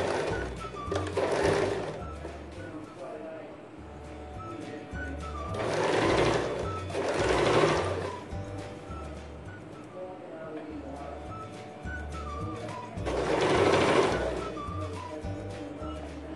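A sewing machine stitches a front slit kurti in bursts, three louder runs of whirring motor standing out over a steady low mechanical hum, with a voice talking at times.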